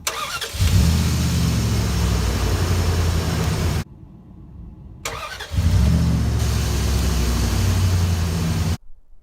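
A 4.8 liter engine cranks and catches twice off a portable jump-starter power pack with no battery, each start settling into a steady loud idle, separated by a short quiet gap before the engine is cut.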